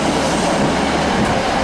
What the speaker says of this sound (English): There's a train coming, Andy, bang on time as well.